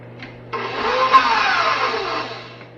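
An electric mixer creams butter for gingerbread snowball cookies, a close, steady motor whir that starts abruptly, runs for about two seconds and then tapers off.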